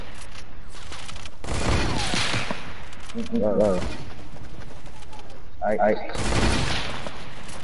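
Hunting rifle fire in a video game, bursts of loud gunshots in rapid clusters spread across the clip, with a voice speaking briefly between them.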